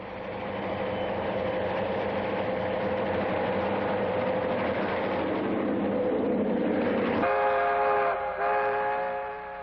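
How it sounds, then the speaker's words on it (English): A Rio Grande diesel train running alongside U.S. Route 50 toward Soldier Summit, a steady engine rumble rolling on before a multi-tone horn sounds loudly in two blasts near the end. "The train is soon spotted alongside U.S. Route 50, headed for Soldier Summit"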